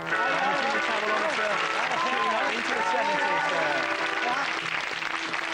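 Studio audience on a comedy TV show applauding to vote for a contestant, sustained clapping and cheering with voices and shouts mixed in throughout.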